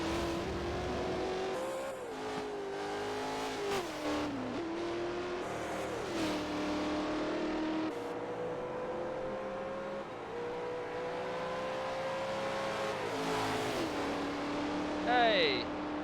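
Race cars in Forza Motorsport 4 rev hard and shift repeatedly, engine pitch climbing and dropping in waves, with a brief tire squeal near the end; engine sound dominates throughout, fairly loud and continuous.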